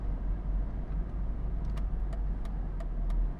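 A 2009 Mercedes-Benz SL63 AMG engine rumbles steadily and deeply while driving, with a constant low drone and a few faint ticks above it, and no one speaking.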